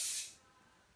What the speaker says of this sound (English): Give it another spray.